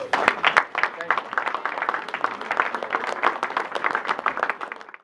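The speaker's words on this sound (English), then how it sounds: "Give yourselves a round of applause." An audience at a presentation breaks into applause, a dense, continuous patter of many hands clapping close by for several seconds with voices mixed in, fading slightly at the end.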